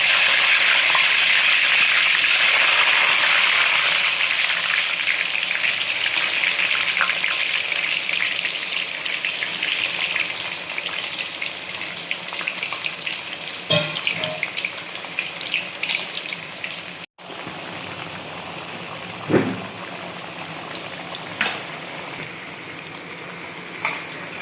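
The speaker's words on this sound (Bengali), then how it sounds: "এবারে আমার দেখো বড়া ভাজা হচ্ছে।" Fritters (bora) sizzling in hot oil in a pan, a steady broadband hiss that is loudest at first and gradually softens, with occasional faint clinks and taps near the end.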